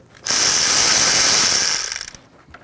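A tube clamp on a throttle body being loosened with a 7mm driver on a 2013-2019 Ford Escape 1.5L L4, heard as a single loud, close burst of whirring tool noise lasting about two seconds before it stops.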